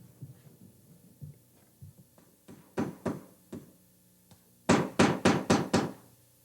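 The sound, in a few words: hammering in baseboard trim pieces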